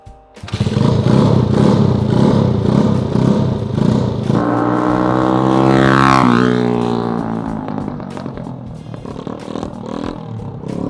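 A Honda cafe racer motorcycle engine runs loud and close, revving up through a rising roar and then settling back to a rough, throaty idle.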